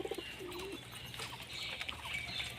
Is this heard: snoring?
no